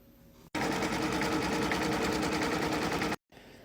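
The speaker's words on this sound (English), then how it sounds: "The machine's going to go around and tack it down" An embroidery machine stitches a tack-down around a quilted panel with foam, giving a fast, steady mechanical whir that starts suddenly, runs close and loud, then stops sharply before quieter room sound returns.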